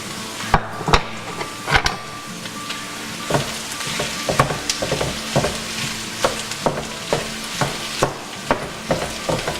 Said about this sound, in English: I'm going to go ahead and add my corned beef, which I've just roughly sliced up to help it along.